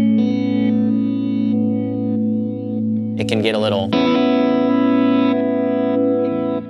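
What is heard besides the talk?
electric guitar reverse delays without reverb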